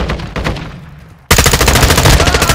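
Rapid automatic gunfire in Modern Warfare 3, a dense, loud stream of rattling shots that jumps sharply louder and closer halfway through.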